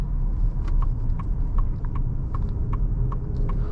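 A 2026 Ford F-150 Lobo's 5.0 V8 rumbles low and steady on a drive, with faint repeated ticks and clicks riding over the engine drone; no one speaks.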